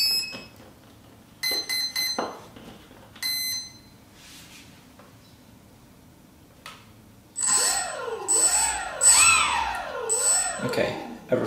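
An electronic speed controller for a 3D-printed ducted fan gives a series of short, sharp tonal startup beeps on being powered from a battery, followed by a rising, warbling motor whine.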